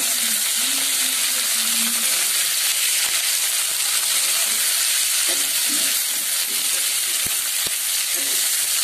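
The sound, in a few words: capsicum frying for veg fried rice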